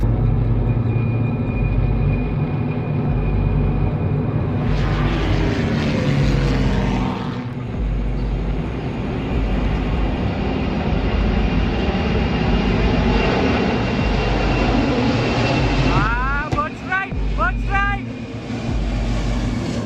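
Ryanair passenger airplane engines during landing, a steady loud roar of jet engines throughout with a shifting whine partway and a brief rattling burst near the end, with speech faintly underneath.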